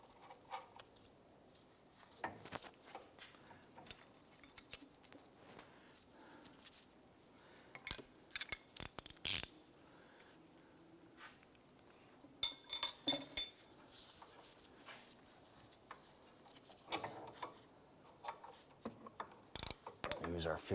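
A 15mm wrench ratchets the nut onto a new sway bar end link on a 2005-2007 Ford 500, giving scattered metallic clicks and clinks in bursts, fairly close, with a faint voice now and then.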